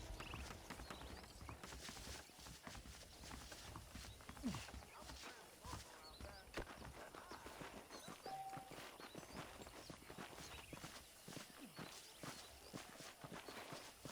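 Saddled horses in the Western video game Red Dead Redemption clip-clop steadily at a walk, a continuous patter of hoofbeats at moderate volume over a faint background hum for the whole stretch.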